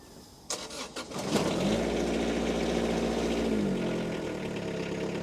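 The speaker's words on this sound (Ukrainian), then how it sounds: "Давайте також заведемо, щоб ви почули, як тракторець працює" A four-cylinder Kubota compact tractor engine cranks a few times, catches, and settles into a steady, close idle that keeps running to the end.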